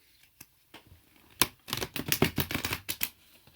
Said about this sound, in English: So I'm shuffling my cards here, and now I'll shuffle them one more time.